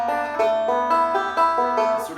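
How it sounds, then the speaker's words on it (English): A banjo plays a bluesy lick in C with string bends and a hammer-on, the clear plucked notes arriving in quick succession, close and alone with no talking. "we get into this cool C bluesy bending lick where"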